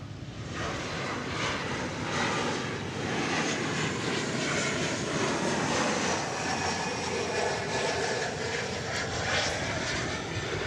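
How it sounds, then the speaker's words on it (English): A 12-year-old Boeing 747-800 jet at DFW Airport, bound for Anchorage, gives a loud, steady engine roar that holds for the whole stretch without any talk. "747-800. This is a plane which is 12 years old, and it is going to Anchorage on its way back to the Far East."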